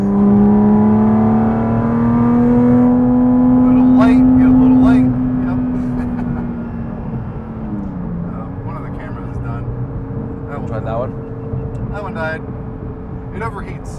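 A Porsche GT4 RS engine drones hard and loud from inside the car as it accelerates, its pitch sliding then dropping as the revs fall, with people talking over it.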